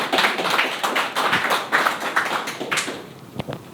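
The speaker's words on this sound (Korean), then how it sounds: "큰 박수로 환영해 주십시오" Audience at a fourth-industrial-revolution citizens' forum clapping to welcome a speaker, a dense burst of close hand claps that holds steady and then thins out toward the end.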